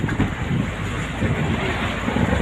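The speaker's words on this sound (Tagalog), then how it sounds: "Malakas ang alon." Steady roaring wind buffets the microphone over churning waves at sea, a dense, continuous rush with no pauses.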